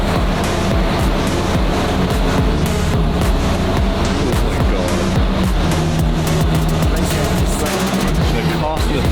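A Koenigsegg Jesko supercar driven on city streets roars continuously, a loud, close engine drone with rising and falling revs and rushing wind noise filling the whole stretch.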